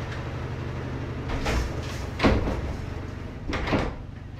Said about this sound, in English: I'm gonna go close those doors.